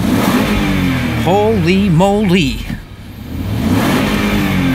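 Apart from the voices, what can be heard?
2006 Range Rover Sport engine revving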